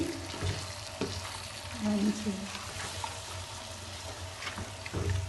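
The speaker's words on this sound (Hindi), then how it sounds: "अब इसको 10 मिनट के लिए मैं फ्राई करूँगी" Mutton khara masala frying on a low flame, a soft low sizzle with occasional stirring knocks and scrapes in the pan, faint and steady throughout.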